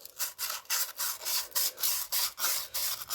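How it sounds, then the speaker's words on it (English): Sandpaper scuffing the inside of a wheel bearing bore on a 2012 Polaris Sportsman 850, about a dozen quick rasping back-and-forth strokes in a steady rhythm, close and fairly loud, with no talk. "I usually like taking a bit of sandpaper now and just"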